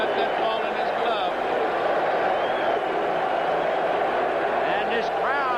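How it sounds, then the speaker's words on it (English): Roaring baseball stadium crowd at a 1983 National League Championship Series game, a dense, sustained wall of cheering and shouting that stays loud and steady throughout. "This crowd is going wild now as Mike Marshall gets in"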